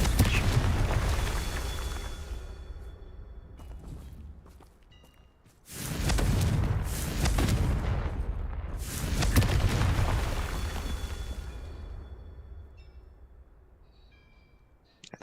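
Confringo fire spell blasts in Hogwarts Legacy, two heavy booming explosions with rumbling tails around a Merlin trial, between stretches of lighter movement and fading ambience, with no speech.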